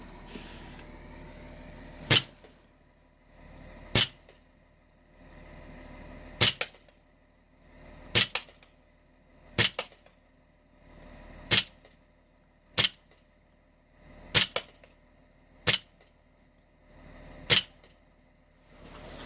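Toy pistol fired at targets indoors: nine sharp, loud snapping shots spaced about two seconds apart, each standing out crisply over a quiet room background, with no talking.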